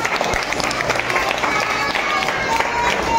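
Clapping and applause from a group at a Teachers Day celebration in a karate school, steady dense clapping for a few seconds with voices and chatter mixed in.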